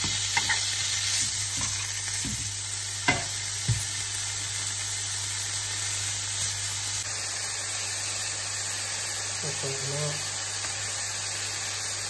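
Bacon strips of varying sizes frying in a pan for a homemade carbonara, giving a steady low sizzle and crackle with a few sharp pops and stirring knocks, fairly quiet throughout.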